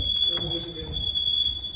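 A fire alarm sounds during LA fire footage, a continuous high-pitched electronic tone running steadily under nearby voices and background noise.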